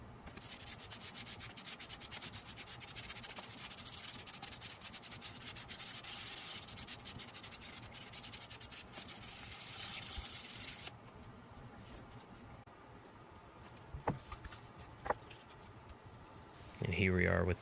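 Fine 2000-grit sandpaper rubs steadily across a Firebird plastic model kit in close, soft, continuous scratchy strokes, then quieter handling sounds and a few light knocks follow.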